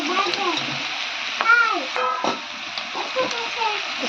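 Cauliflower and onion frying in a pan for an Odisha cauliflower chilli dish, a steady near sizzle with occasional scraping stirs and brief voice-like tones over it.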